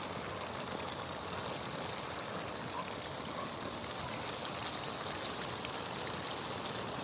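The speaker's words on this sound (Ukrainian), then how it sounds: "Вже потрохи накрапає дощик" Light rain beginning to fall outdoors during autumn, a steady soft hiss of drizzle pattering on surfaces, even and continuous throughout with no voices.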